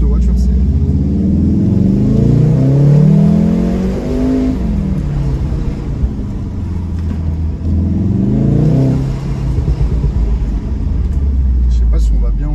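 A Volkswagen Golf 7 R engine with 310 horsepower revs loudly, climbing in pitch twice and dropping back, with a deep steady rumble underneath and a voice talking over it.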